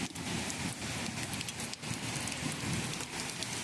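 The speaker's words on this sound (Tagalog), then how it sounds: "Yung unang patak ng mga akala mo ulan lang siya pero puro ice siya" Hail falls in Riyadh, Saudi Arabia, a dense steady patter of ice pellets striking surfaces nearby, loud and continuous with scattered sharper hits.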